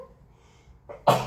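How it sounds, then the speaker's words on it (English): One person sneezes close up: a short intake of breath, then a sharp, loud burst after a near-silent pause. "Oh, I need to sneeze again."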